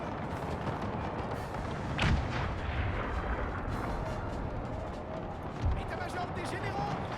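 Artillery cannon fire in the Napoleonic-era strategy game Napoleon: Total War, with booming shots near the two-second and late marks over a dense, continuous battle din of distant gunfire and commotion.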